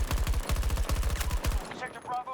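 Rapid automatic gunfire in Battlefield 2042, a dense rhythmic burst of close, loud shots lasting over a second before cutting off to quieter game ambience.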